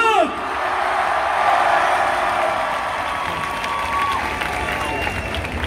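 Dense concert crowd at a rap show at Moni Lazariston in Thessaloniki, Greece, applauding, cheering and whooping loudly and steadily throughout, with shouts rising above the roar.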